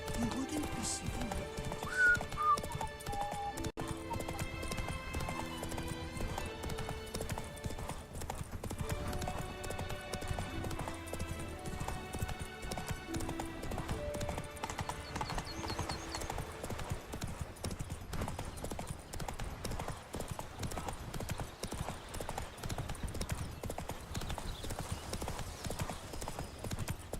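Horse hooves clip-clop steadily for a long stretch in The Witcher 3: Wild Hunt – Blood and Wine, with neighing mixed in under background game music and occasional voices.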